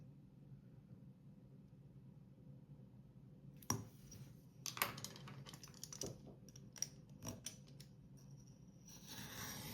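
Scissors cutting through a journal cover along measured lines, a series of quiet close crisp snips and rustles starting partway through, over faint background hum.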